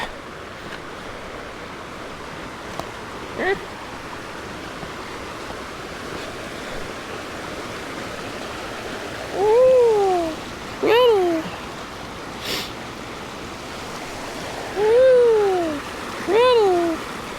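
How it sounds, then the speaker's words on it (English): A creek flows at a crossing on the Surprise Creek hiking trail in the Alps, a steady broad rush of water close by, broken by a few short tonal calls and brief bumps near the end. "we're at the crossing of the creek"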